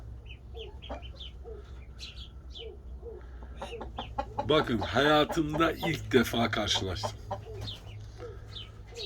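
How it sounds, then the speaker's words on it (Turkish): Chickens cluck and chatter close by in short, repeated bursts while a person talks over them. "Çok da güzel bir tavuk."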